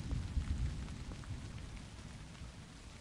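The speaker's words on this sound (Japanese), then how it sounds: "雨降ってきたぞ" Faint, steady rain patters and hisses in the Japanese horror video game Tsugunohi, a soft continuous wash with a low rumble underneath, fading slightly over a few seconds.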